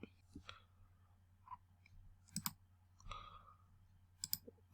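A computer mouse gives a few sharp, close right-clicks spaced a second or two apart, with quiet, low talking nearby.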